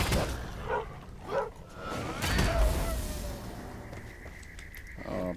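A puppy in the video game Enshrouded gives a few short, sharp barks and yips, then a faint whimper, mixed with whooshing game effects and mechanical sounds at moderate volume.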